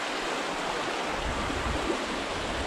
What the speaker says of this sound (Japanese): いいですねこの小川のせせらぎ